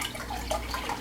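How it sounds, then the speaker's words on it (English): Vegetable broth pours into a pan for a chia seed vegan gravy, a steady close liquid splash and trickle running the whole moment with no talk. "I'm going to add about a half cup of vegetable broth."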